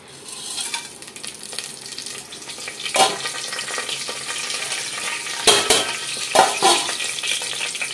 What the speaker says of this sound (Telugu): ఇక నేను వేసేస్తున్నాను స్పైసెస్ అన్ని.